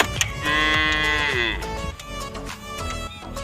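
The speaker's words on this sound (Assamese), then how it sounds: "আকৌ গৰুৱে মাতি আছে গাঁৱৰ পৰিৱেশ পূৰা" Cow mooing in a village, one long drawn-out low moo lasting over a second, fairly close, followed by village ambience and a soft voice.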